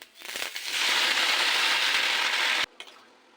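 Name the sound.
washed leafy greens sizzling as added to hot oil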